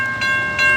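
Loud steady ringing tones, like a station crossing bell or warning signal, as a train approaches Point Pleasant Beach station, rising in two short bursts nearby with no voices.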